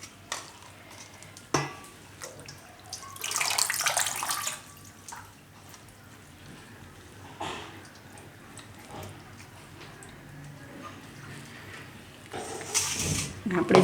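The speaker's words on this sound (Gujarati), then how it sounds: "તો આ રીતે પાણી નિતારીને એને આપણે લઈ લેવું." Water is drained off washed spinach in a home kitchen, with two short splashing pours standing out from quiet background noise, one early and one at the end.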